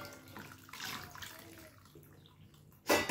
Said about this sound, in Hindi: इस पर थोड़ा ठंडा पानी डाल देते हैं।